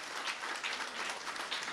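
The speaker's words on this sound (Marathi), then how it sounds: "एकदा जोरदार टाळ्या या मैत्रीसाठी सुद्धा" An audience at a gratitude felicitation ceremony at a theatre applauds, a steady wash of many hands clapping at moderate distance, with no voices over it.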